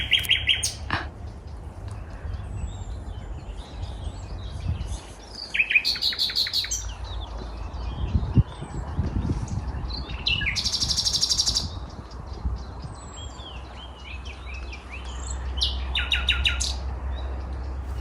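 Several birds chirp and tweet in short bursts at a lake over a soft, steady outdoor hum, with high trills coming and going from nearby and farther off.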